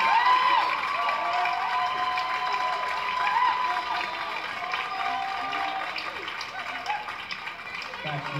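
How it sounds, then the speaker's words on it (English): A crowd at a dance competition finals applauds and cheers with clapping, whoops and shouts, while tonal sounds and chatter run underneath for the whole stretch. "big round of applause. Nice job."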